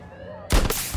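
A single sharp shot from a Barrett M98B sniper rifle lands a headshot in the video game Battlefield 2042. It bursts in loud and sudden after quiet tonal background sound and rings on briefly.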